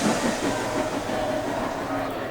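A toy steam engine runs along its track with a steady rumbling, clattering rail sound and faint rhythmic chuffs, close by, as a voice narrates over it.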